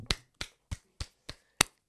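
A single gentleman in a seated audience claps slowly and awkwardly, six sharp isolated claps about a third of a second apart, close and fairly quiet with silence between.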